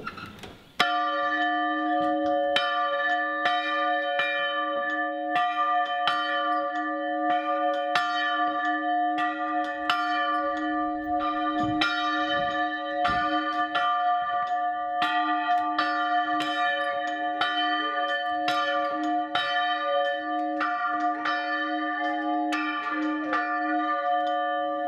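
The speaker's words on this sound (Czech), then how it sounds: "Těch 300 let už tady jsou zvony. Já jsem tady skoro 3 roky, tak jsem tady se pokusil aspoň obnovit zvonění asi po 30 letech" Church bells at Pirkštejn castle, hung there for about 300 years, ring loud and near in a steady, repeated pattern of bright strokes whose long resonant hum carries on under each new strike.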